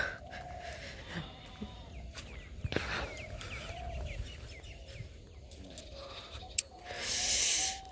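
Chickens in an outdoor village yard on a cold, foggy morning give faint clucks and short calls over steady background noise, with other birds chirping and a brief louder rustle near the end.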